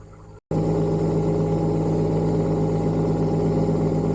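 A mini excavator's small diesel engine idles at a steady rumble, close and loud, after a brief cut to silence at the start.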